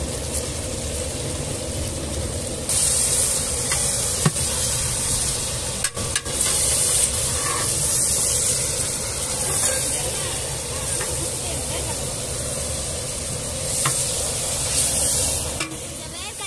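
Curry leaves frying in a hot pan with oil, a steady crackling sizzle close by that swells and settles, with occasional clinks of a stirring spoon.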